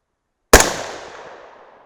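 A single sharp 6.5 Grendel rifle shot firing a 107-grain Sierra MatchKing over a Power Pro 2000 MR handload of 31.4 grains, a loud close crack after a moment of silence, its report ringing out and decaying over about a second and a half.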